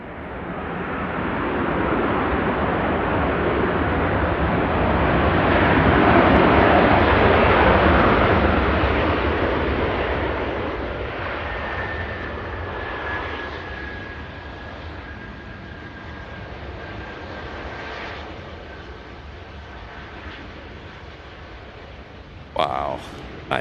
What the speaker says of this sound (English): Wow, that is a beautiful aircraft.